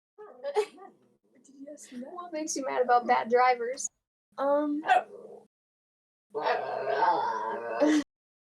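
Excited pet dogs bark, howl and whimper in a podcast studio, yelping in bursts that overlap and alternate with people talking nearby.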